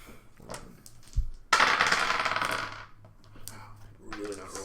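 Uneven rock-tumbled dice clatter and tumble across a table during a tabletop game session, a short rattling burst that settles and fades, in a quiet room.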